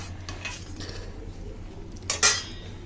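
A metal lid set onto a pot of whole mung dal in a home kitchen, a few soft scrapes and then a bright clink near the end over quiet background hum.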